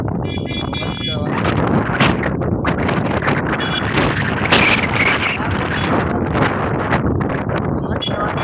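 Strong wind blowing across a rooftop in a Gujarati village, buffeting the microphone in a loud, steady roar with gusty surges and rustling. A voice is also heard under it.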